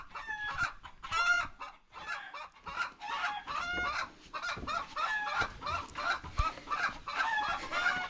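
A hen cackles near a house in a run of repeated, fairly faint clucks and squawks over several seconds, with other fowl joining in.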